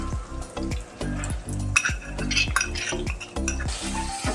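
A chili spice mixture fries in oil in a pan for a katla fish kalia, with a soft sizzle beneath steady, rhythmic metal clanks of a utensil stirring against the pan.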